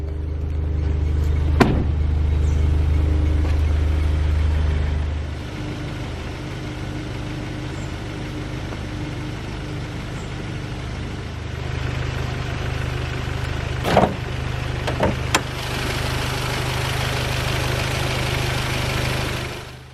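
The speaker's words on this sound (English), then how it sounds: "This A4 has a 2-liter turbocharged 4-cylinder" A 2015 Audi A4 S Line's 2.0-liter turbocharged four-cylinder engine idles steadily nearby, a low even hum that drops in loudness partway through, with a few brief clicks and clunks.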